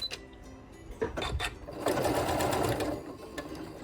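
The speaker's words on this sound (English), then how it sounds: "I'm gonna back stitch in place now." A sewing machine back stitching in place on felt for a poker table cover: a few short stop-start bursts, then a steady, close whirring run of stitches before it slows.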